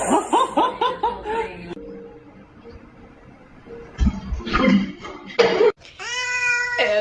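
A cat meows in a quick string of short calls, then later lets out a longer drawn meow, close by, with chuckling laughter and other household noises between the calls.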